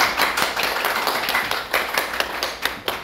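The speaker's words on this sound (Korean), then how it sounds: "박수 한번." A church congregation gives a brief burst of applause, dense fast hand clapping heard close and fairly loud throughout, with no speech on top.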